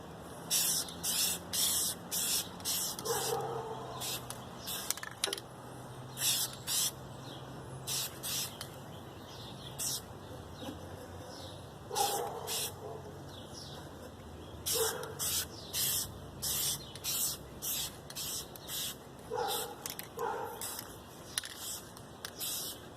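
Primer sprayed from an aerosol can onto a guitar body in short, sharp hissing bursts, about a dozen quick puffs in rhythmic clusters. Close and fairly loud, with faint outdoor background between bursts.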